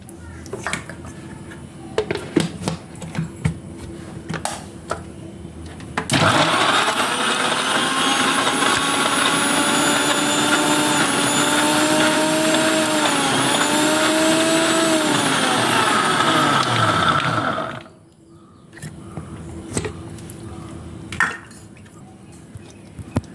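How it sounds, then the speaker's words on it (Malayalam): Blender whirring through soaked peeled almonds and dates for a smoothie, a loud steady roar starting after a few quiet clinks, with pitch dipping slightly midway, then stopping, followed by light clatter. "ബ്ലെൻഡ് ചെയ്തെടുക്കാം."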